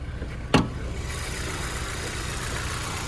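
A 2007 Honda S2000 with a VTEC dual overhead cam engine idling, a steady low rumble heard up close after a brief sharp knock near the start.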